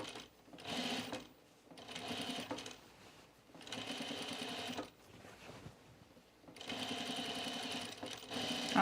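A sewing machine top stitches a coat collar in three long running bursts with short pauses between, close and steady, with no talk.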